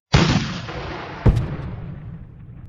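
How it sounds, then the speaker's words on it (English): Union artillery fire at the Civil War battle of Malvern Hill: a loud cannon boom opens, a second heavy blast lands about a second later, and each rolls off into a long fading rumble with no voices. "The Union artillery opens up into this mess, making it impossible to move forward, and it just keeps coming."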